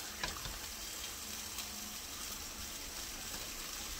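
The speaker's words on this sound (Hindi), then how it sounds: "तो इसको हम अब भूनना शुरू करेंगे कि सारे मसाले कीमा पालक सब चीज़ जो है वो भुन जाए" Minced meat and spinach for qeema palak fry in a pan, giving a steady, fairly faint hiss and sizzle with no talk over it.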